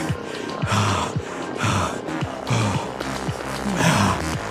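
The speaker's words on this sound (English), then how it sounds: "Oh, I'm breathing heavily tonight." Heavy rhythmic breathing during an indoor cycling workout, loud close gasping inhales and puffing exhales repeating about once per second.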